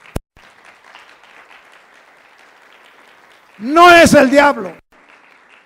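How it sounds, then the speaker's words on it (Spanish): A church congregation bursts into brief, loud applause mixed with cheering voices for about a second, rising abruptly out of a preacher's steady speech and dropping back to quiet talk. "Dele un aplauso al Señor"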